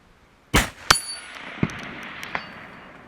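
A rifle shot rings out as a sharp clang, with a second loud metallic impact right after it, then smaller pings trail off at a distance. It sounds like a round striking a steel target, and no one speaks.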